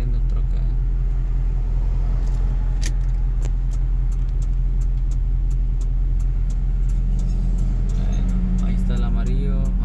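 A truck pulls out and drives off at night, a steady low engine rumble close by with faint clicks, the hum holding level throughout.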